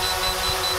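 Steady high-pitched electronic beeping of an Autel EVO drone's obstacle sensor, fairly loud and continuous, over a whir of motor noise.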